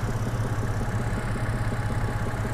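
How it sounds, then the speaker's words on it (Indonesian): A 2011 BMW 528i's six-cylinder engine idles smoothly, a low, even hum with a faint regular pulse, steady and close for the whole moment. "ini adalah mesin yang halus ya, karena V6 itu lebih halus daripada V4 biasanya"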